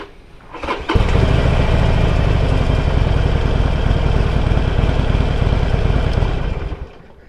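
A 2021 Harley-Davidson Sportster motorcycle, under repair for an ECM fault, cranks briefly and then fires up, its engine running loud and steady close by for several seconds before shutting off.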